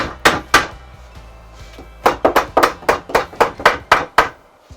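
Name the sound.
drilling and screwing through whiskey barrel bench wood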